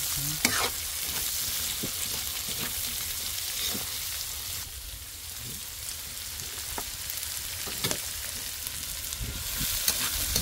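Food sizzles and fries steadily in a wok-style frying pan as it is sautéed, with occasional utensil scrapes and taps against the pan over a continuous crackling hiss.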